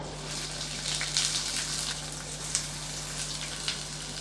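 Chopped onions frying in a pan for Tamil-style egg masala gravy, a steady soft sizzle with faint crackles and occasional small pops, no talking.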